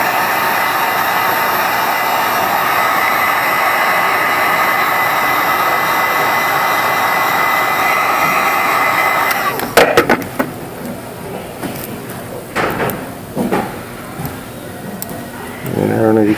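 A hot-air blower heats a cracked phone screen to separate the glass from the LCD, giving a steady, loud whooshing hiss for about nine seconds. It then cuts off, leaving scattered small clicks and handling noises.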